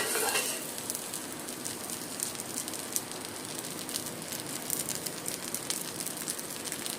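A sprout mix pesarattu with onion, coriander and cumin sizzles on a pan as ghee is poured over it, giving a steady close frying hiss with fine crackles and no voices.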